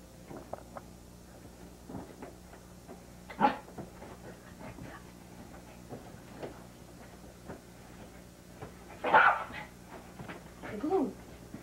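A puppy barks and whimpers in short, scattered bursts, with a few sharper yips standing out around the middle and near the end, over a quiet indoor background.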